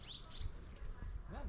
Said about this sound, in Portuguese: Olha os passarinhos, que lindo.